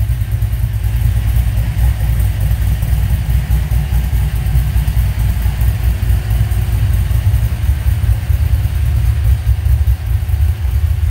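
A Chevrolet C10 pickup truck engine runs steadily at night, a loud, continuous low rumble with an even idle throb throughout and no talk.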